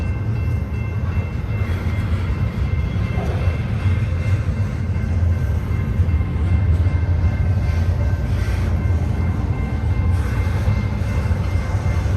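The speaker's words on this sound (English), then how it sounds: "Boy, this place is stacked with trains today." Freight trains roll through Lower Sworthout Canyon, a steady, loud low rumble of rail cars passing continuously with no pauses, alone without talk.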